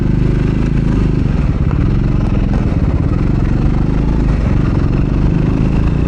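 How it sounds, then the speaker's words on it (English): Triumph Scrambler 400X motorcycle, a 2024 model, with its exhaust note rumbling steadily and loudly at close range, a continuous deep engine throb with mechanical clatter and no break for the full duration. "The exhaust note is perfect"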